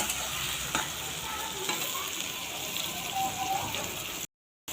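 Sliced onions fry in a pan for a meat curry, giving off a faint, steady sizzle and crackle that goes on evenly before cutting off into silence.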